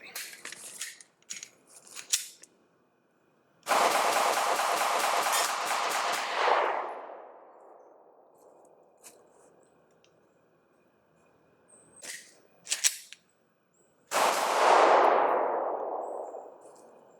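A Glock pistol loaded with a standard magazine fires and cycles in two loud bursts several seconds apart, each followed by a long ringing decay, with scattered clicks and metallic handling noises between them.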